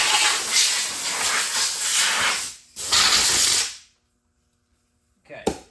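Brake cleaner aerosol blasts in two long hissing sprays onto freshly sanded metal on a 1964 Comet wagon, loud and close, with a short break between them, then silence and a brief knock at the end.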